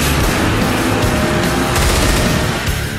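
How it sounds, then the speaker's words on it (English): Rapid submachine gun fire in the Twisted Metal vehicular combat game, loud and dense across the whole stretch, with steady bursts and booming impacts layered over continuous rattling shots. "The submachine gun has a higher rate of fire, but shoots in limited bursts, followed by a short pause between rounds."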